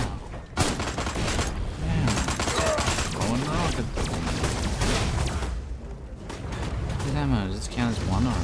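Weapon fire during a fight in Destroy All Humans!, a steady stream of rapid shots and blasts under continuous game noise, with talking heard over it.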